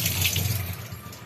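Tap water runs steadily into a sink while barracuda (sheela fish) is cleaned, a continuous close hiss with a low rumble and no talk.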